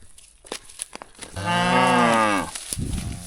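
A big cow on a farm gives one loud, sustained moo lasting about a second, close to the listener, with brief rustling and knocking noises before it and a low rumble after it.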